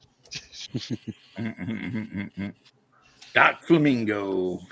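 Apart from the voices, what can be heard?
dog whining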